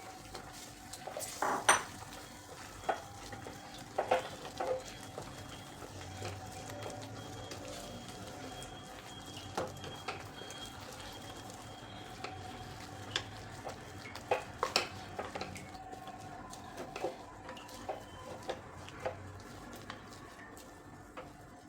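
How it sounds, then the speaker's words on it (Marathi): Metal spoon scraping and clinking against a pot while semolina is stirred into boiling water, irregular knocks over a low steady background. "हा रवा जो आहे हा टाकून आपल्याला मिक्स करून घ्यायचा व्यवस्थित"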